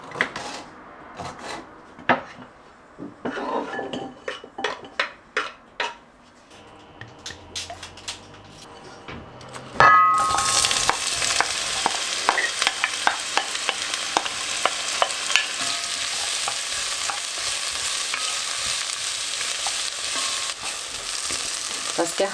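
Vegetables and onions fry in a pan while being stirred, scraping and tapping at first, then a loud steady sizzle takes over with repeated stirring clicks on top.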